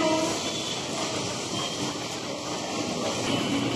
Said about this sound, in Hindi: फाइनली फ्रेंड हमारी ट्रेन आ चुकी है